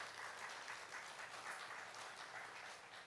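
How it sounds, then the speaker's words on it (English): Faint, steady applause from an audience at an official ceremony releasing the 2019 CXC exam results in Montserrat, a continuous wash of clapping lasting about three seconds, heard at a distance with no voices. "Let us give him a round of applause, please."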